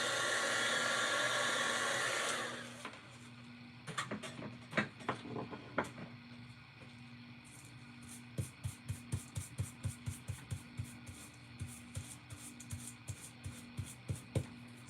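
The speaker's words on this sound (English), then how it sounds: "Put the heat to it and it flattens out." Heat tool blowing a loud steady airy rush onto bent craft leaves for a couple of seconds, then switched off, followed by a run of rhythmic clicks and light taps.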